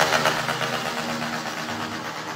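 Loud motorcycle engine noise in a city street at night, a brief, harsh, roaring burst that stays close and fills the moment without voices.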